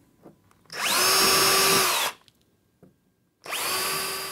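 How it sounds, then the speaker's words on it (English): A power drill whirs in two close bursts, the motor winding up then spinning steadily as it bores into wood, with a short pause between. "Drill a pilot hole."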